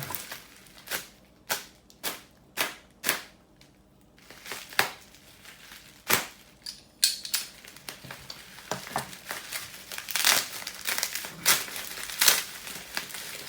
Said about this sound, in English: We got bubble wrap and tape.